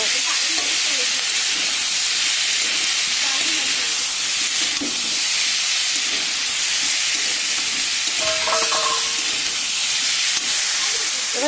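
Mixed vegetables fry together in a pan for a mixed-vegetable curry, giving a loud, continuous sizzling hiss that holds steady throughout with faint stirring scrapes.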